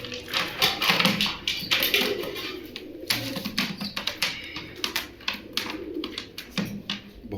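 Rampuri pigeon chicks in a home loft, with soft coos and rapid pecking taps, many close clicks scattered throughout over a busy background.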